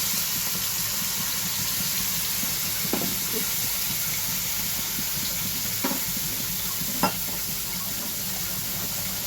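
Spice paste poured over eggplant in a hot pan, making a soft, steady sizzle and hiss with a few brief stirring knocks against the pan. No voices.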